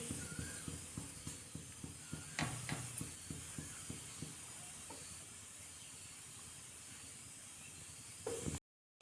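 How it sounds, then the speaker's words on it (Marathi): Dough balls for Rajasthani dal baati steam inside an idli steamer, giving a steady hiss broken by repeated soft rhythmic puffs and clicks, close and alone, cutting off near the end. "आता आपण हे इडलीच्या भांड्यामध्ये वाफवायला ठेवू"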